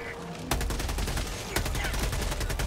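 Rapid video-game gunfire in dense bursts, loud and close, with a sharp burst starting about half a second in and another near the middle, continuing steadily to the end.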